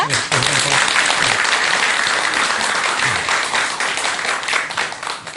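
A lecture audience breaks into loud, sustained applause, a dense wash of many hands clapping steadily from start to finish, tapering slightly at the end, with voices faintly mixed in.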